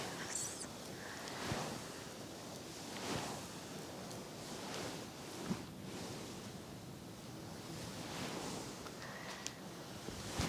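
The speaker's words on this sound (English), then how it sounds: "massage sounds sound like ocean waves" Hands rub and knead a soft pillow in slow, rhythmic swells, producing a faint, airy wash of noise that rises and falls like ocean waves.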